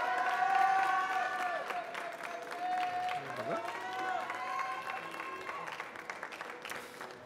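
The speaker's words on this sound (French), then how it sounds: "un tonneau d'applaudissements s'il vous plaît pour Romain" An audience at a coffee-and-spirits competition final in Marseille applauds competitor Romain, a moderate, scattered clapping mixed with background music and some voices.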